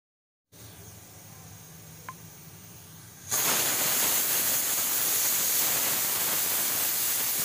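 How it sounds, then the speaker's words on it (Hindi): Pressure cooker on a gas stove cooking dal khichdi: after a faint background hum, a loud, sustained hiss of escaping steam bursts in partway through and keeps going steadily to the end. "कुकर में सीटी लग चुकी है"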